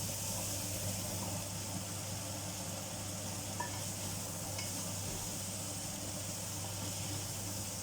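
Potatoes fry in a pan while being stirred, giving a steady, even sizzle and hiss that carries through the whole stretch with a few faint scrapes. No one speaks.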